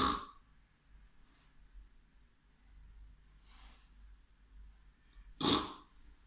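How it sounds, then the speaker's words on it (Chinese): A sleeper's snoring comes in uneven bursts, one very loud, then a faint one, a moderate one and another loud blast, alternating high and low with quiet pauses between them. "第二种打呼噜，第一个声音特别高，一高一低的"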